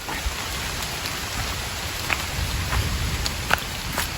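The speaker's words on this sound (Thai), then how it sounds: "ตอนนี้เนี่ยฝนเนี่ยตกลงมา หนักมากเลยนะครับ" Heavy rain pours steadily onto surfaces outdoors, a dense continuous hiss with scattered louder drips and splashes, close and with no voices.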